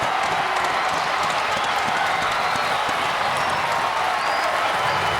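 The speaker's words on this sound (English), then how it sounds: "Crowd to its feet in Omaha." Stadium crowd at a college baseball tournament game in Omaha roars with sustained cheering and applause after a strikeout, loud and continuous throughout.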